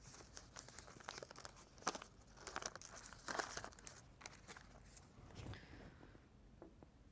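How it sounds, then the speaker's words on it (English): Oil paper crinkles and tears as it is wrapped around a 120-series injector valve assembly, with irregular close-up rustling, crumpling bursts and sharp crackles, fairly quiet and with no speech. "We used oil paper to wrap it up."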